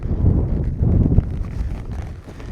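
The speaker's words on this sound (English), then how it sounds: "In fact, it's windier today than it's been all week." Gusty wind buffets an outdoor microphone during a horse ride, low rumbling rushes that swell and ease over a couple of seconds, with faint hoof or step sounds underneath.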